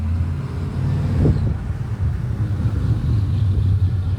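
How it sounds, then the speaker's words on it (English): Truck with a throaty engine passing by outdoors, a steady low rumble and road roar that swells briefly and then carries on as a constant drone, fairly loud, with no speech. "That's a nice truck too. Really throaty."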